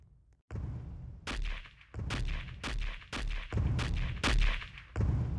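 Rapid bursts of gunfire from the Roblox video game boom and crack in quick repeated volleys, loud and close, with no talking over them.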